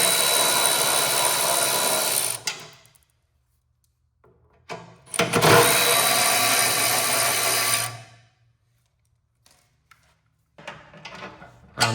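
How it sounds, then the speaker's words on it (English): A loud power tool whirs on a John Deere snowblower while its chain guard is removed, two long bursts of several seconds with quiet between them and short clicks and rattles at the end. "And here we are taking off the chain guard."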